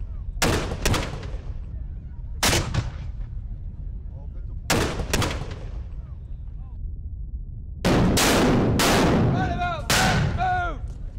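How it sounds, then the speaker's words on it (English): Historical artillery-piece sound effects for a fortress siege from the Peninsular War era: several heavy booming shots fired at intervals, then a louder cluster of blasts and crackling explosions toward the end. "A French artillery piece made a big explosion, leading this fortress to surrender."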